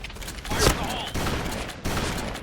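Gunfire in the Point Blank shooting game, rapid overlapping bursts of shots with one sharper loud crack, continuous and close, with a player's voice talking over it.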